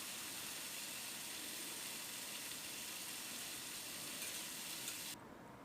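Small anchovy fish frying in a pan give off a steady, dense, faint sizzle that holds evenly throughout and then drops slightly at the end.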